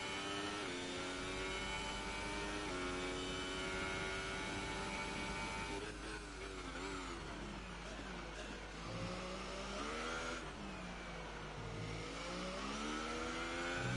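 An F2 race car engine in a racing video game screams at high revs on a fast lap, with steady, loud whining harmonics that dip and climb through gear changes and corners, alone without talk.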